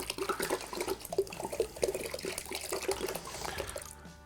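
A litre of water poured into a homemade laundry detergent mix, a steady splashing, gurgling flow that runs for several seconds before stopping abruptly.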